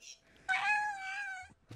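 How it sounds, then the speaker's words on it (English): A small cat-like creature in a modded Minecraft game gives one clear, drawn-out meow, close and distinct, followed by a faint short sound. "Sounds like a cat."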